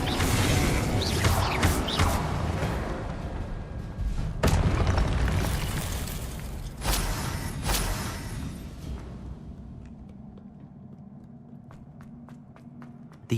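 Incendio fire spell cast in the video game Hogwarts Legacy: a loud whooshing blast with booming impacts, followed by crackling bursts and clattering effects that fade into a quieter rumbling ambience with scattered ticks.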